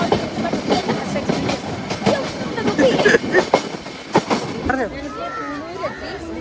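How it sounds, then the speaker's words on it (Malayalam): Nilgiri toy train on the mountain line to Coonoor, heard from on board as a steady rumbling clatter of wheels over rail joints, with metallic squeals near the end as it rounds a curve. "ഈ ടോയ് ട്രെയിനിലാണ് ഞാൻ വന്നത്"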